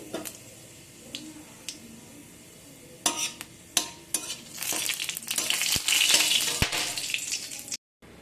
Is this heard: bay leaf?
yes